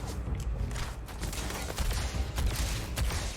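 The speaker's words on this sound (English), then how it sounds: "Literally shooting out into the distance." Distant gunfire in the video game Starfield, a busy scatter of muffled shots and cracks over steady low rumble, with no talk.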